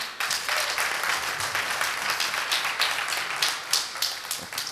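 Applause at a spelling competition, a moderate group clapping with distinct individual claps audible in the mix, steady and medium-loud, thinning toward the end.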